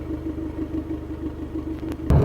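An Abarth car engine idles nearby, holding a steady low rumble with a faint pulsing rhythm, ending in a brief louder thump.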